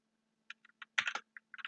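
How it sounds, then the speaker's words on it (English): Code is typed on a computer keyboard in a short, quiet burst of close, crisp key clicks, a few single taps followed by a quick cluster. "we're going to have to type in two additional lines into here"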